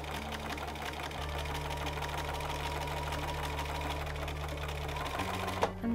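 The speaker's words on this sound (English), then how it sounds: "I'm going to sew again, I'm going to back stitch because I just want to make sure these stay in place." Steady whirring drone of a sewing machine running continuously while back stitching over fabric pleats, close and even, with a brief change in pitch and a small knock near the end.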